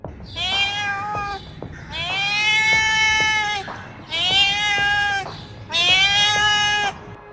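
A cat gives four long, drawn-out meows close by, each loud and wavering, separated by short pauses.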